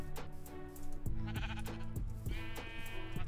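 Sheep bleat in Minecraft, several short wavering cries repeating over soft game background sounds, quiet and without talking.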